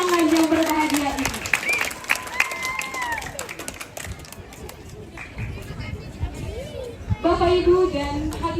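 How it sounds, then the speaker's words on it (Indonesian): An audience applauds an engaged couple at a Toraja engagement ceremony at Tongkonan Tanete Rembon, a burst of clapping and crowd noise that fades under a voice talking, with more clapping returning near the end. "Boleh dong saya minta tepuk tangan dari kita semua yang meriah untuk pasangan yang berbahagia ini."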